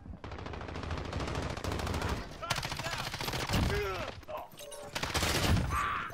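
Rapid gunfire bursts from a Call of Duty: Modern Warfare match, loud, repeated volleys with short pauses, mixed with other game effects.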